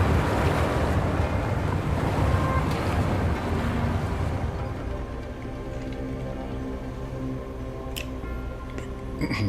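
Water rushing and draining away in the water temple of the video game Wuthering Waves, a loud broadband wash that thins out after a few seconds, with faint clicks near the end and no talk.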